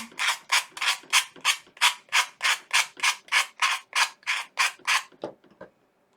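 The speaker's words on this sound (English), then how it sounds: "You can also just use regular sandpaper." Wood is sanded by hand with regular sandpaper in about sixteen even back-and-forth strokes. Each stroke makes a close, loud, rasping scratch, and the rhythm stops with a few lighter rubs at the end.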